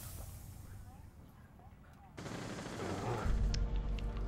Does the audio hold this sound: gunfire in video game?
yes